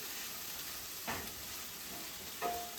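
Food cooking in a pan sizzles softly and steadily at low volume while two brief scraping strokes of a utensil stir it, one near the middle and one near the end.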